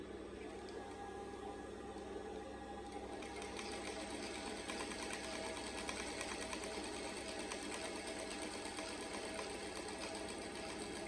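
A sewing machine runs a stitch with a fast, even mechanical whir, continuous and fairly faint, close by without any talk.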